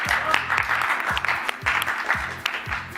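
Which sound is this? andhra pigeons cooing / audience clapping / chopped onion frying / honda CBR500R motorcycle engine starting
audience clapping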